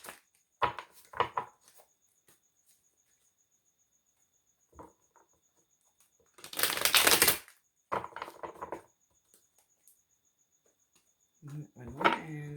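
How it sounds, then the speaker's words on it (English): Tarot cards are shuffled in short, crisp bursts of riffling and tapping, with one longer loud riffle in the middle and quiet gaps between, close to the microphone. "let's give these cards a little shuffle"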